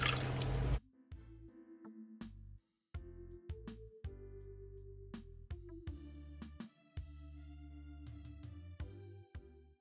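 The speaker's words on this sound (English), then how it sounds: "I'm squeezing all of the starch that leave back from the pulp" Starchy liquid drips and splashes into a container as corn pulp is squeezed out by hand, a quiet close series of irregular plinking drops and short trickles, with no voices.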